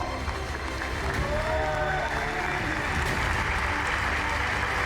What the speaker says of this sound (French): Est-ce qu'on peut applaudir s'il vous plaît toutes ces légendes?